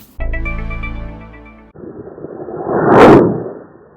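A twangy Ravin crossbow release is followed by a rising, fading rush of air as an arrow with a Rage Tyrant three-blade broadhead flies off, ending in a sharp thud of impact.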